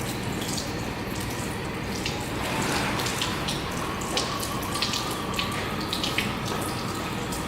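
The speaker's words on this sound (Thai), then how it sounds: "เอาไอ้กระชายมาล้างเนาะ อ่ามาล้าง ถ้าล้างก่อนนิดนึง ล้างให้สะอาด" Tap water runs steadily into a sink while fingerroot (krachai) rhizomes are rinsed clean, a continuous close splashing stream with small shifts as the roots are moved under the flow.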